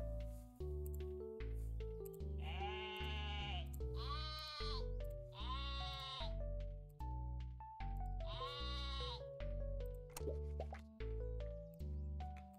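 Sheep bleating in the video game Terracards, several cartoonish bleats over a bouncy looping game music track with plopping sound effects, steady and clear.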